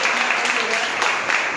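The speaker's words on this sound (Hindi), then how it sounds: "तो हमारी मेगा एलपी केंद्र वालों की ताली होनी चाहिए।" Audience applause at a direct-selling business seminar, a short burst of dense, loud clapping from a crowded hall lasting under two seconds.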